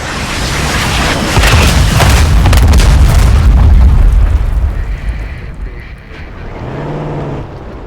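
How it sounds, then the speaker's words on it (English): A mortar strike in Call of Duty Black Ops 6 lands as a loud, sustained rumbling boom that swells for several seconds, then fades into quieter battlefield ambience with a low tonal hum near the end. "Mortar on the way"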